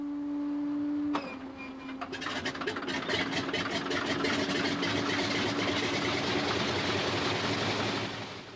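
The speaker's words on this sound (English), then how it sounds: "The sight and sound of the past, a Pratt & Whitney air-cooled radial engine. It is powering a de Havilland Beaver" A Pratt & Whitney air-cooled radial engine on a de Havilland Beaver aircraft starts with a sudden cough, then settles into a loud, rough, rapidly pulsing run that builds and holds steady.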